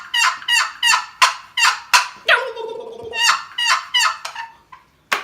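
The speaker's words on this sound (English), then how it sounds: "you can see how I'm just pinching the paddle, holding the call lightly. Let the paddle do the work." A Wilper wooden box turkey call worked with short paddle strokes gives a close, loud run of rhythmic yelping clucks and a quick raspy purr, with no voices.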